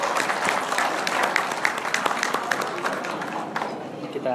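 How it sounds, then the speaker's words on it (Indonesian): Audience applause at a public talk event with a provincial guest, brisk individual claps over a dense crowd wash, with a voice talking faintly underneath. "Tepuk tangan sekali lagi untuk kita semua."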